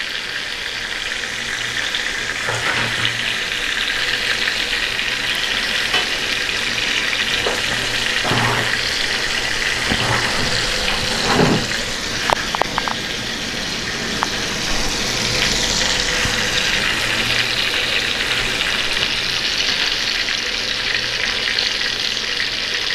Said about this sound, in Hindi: इसको यूँ पिसला के घी के अंदर डाल दूँगा